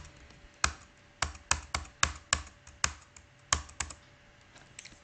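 Computer keyboard keys pressed in Tally accounting software, a series of about a dozen sharp separate clicks, some in quick pairs, close and clear with no talking.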